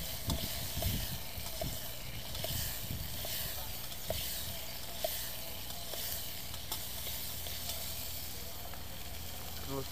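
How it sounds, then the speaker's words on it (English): Food frying in oil in a metal canteen cup over a wood fire outdoors, a steady close sizzle and hiss with a few faint clinks and low rustles. "Fry those up a little bit before"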